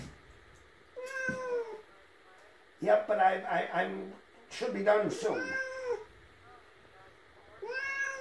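A cat at a veterinary clinic meows repeatedly, drawn-out loud cries in separate bursts close by, while a person talks in the same room.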